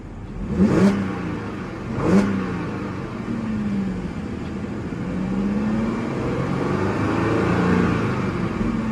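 A 2012 Audi A7 engine revs sharply twice in quick succession, then settles into a smooth, steady drone with gentle rises and falls, close by.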